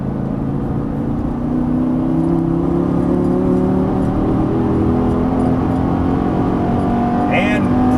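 Lamborghini Gallardo accelerating under throttle on a track, a loud steadily rising engine drone heard from inside the car as a voice talks over it.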